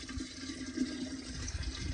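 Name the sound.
water running into pots and vessels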